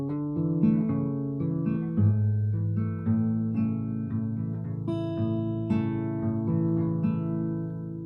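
Slow, plucked acoustic guitar riff with notes ringing into each other, played alone at a steady, unhurried pace.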